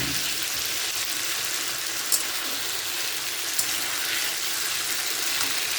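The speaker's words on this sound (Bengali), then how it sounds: "আমি তরকারিটা ভালো করে বানিয়ে নিচ্ছি, আর যতক্ষণ মশলা থেকে তেল না ছেড়ে আসে ততক্ষণ নাড়তে থাকবো" Curry spices frying in oil in a pan while being stirred, a steady close hiss and sizzle running throughout with a couple of brief clinks of the spoon.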